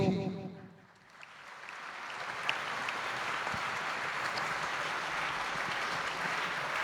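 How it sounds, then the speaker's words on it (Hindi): An audience claps during a Hindi spiritual discourse: after a brief lull, steady, dense applause swells in and holds, loud and continuous, with no voices over it. "आप ताली बजा रहे हैं"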